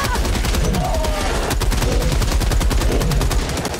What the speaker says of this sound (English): Oh, das MG ist super.